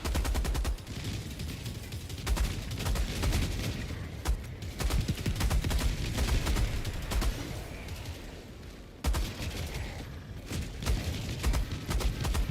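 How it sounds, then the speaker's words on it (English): Enemy artillery and heavy gunfire in the video game Helldivers at its hardest difficulty, a dense, loud barrage of booming blasts and rapid shots rolling almost without pause, with one brief dip before the onslaught resumes. "Warning, you are in range of enemy artillery."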